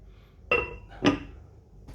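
A lid set down on a pot of parboiled biryani rice gives two distinct metallic clinks about half a second apart, close and clear in a quiet kitchen.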